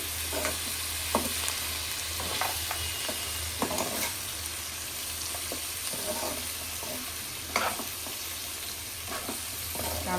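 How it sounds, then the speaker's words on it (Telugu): Chicken with fenugreek leaves fries in a pan as a steady, fairly loud sizzle runs throughout, broken by repeated stirring scrapes and light clinks of a spoon against the pan. "ఆల్మోస్ట్ కర్రీ ఫ్రై అయిపోవడానికి వచ్చినట్టే"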